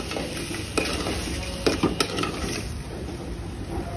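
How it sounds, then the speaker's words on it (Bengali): Taro with shrimp and spices is stir-fried in a pan, with a continuous soft sizzle under scraping, clinking spatula strokes against the metal, close and with no voices. "আমি খুব ভালো করে কষিয়ে নিচ্ছি।"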